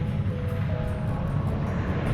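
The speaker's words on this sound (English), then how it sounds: "From a distance, it sounds like a jet engine. Which it is! They're jet boats." A racing jet boat's turbine engine gives a steady, distant roar, a low broad rumble that holds without a break.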